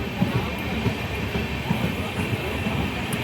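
Indian passenger train pulling out of Nimtita station, a steady rumbling roll with faint rail clatter, heard from inside the carriage.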